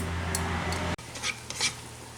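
Butter melting in a pan for a garlic butter chicken dish gives a soft, faint sizzle, with a couple of light clinks and a brief scrape near the middle, and no speech.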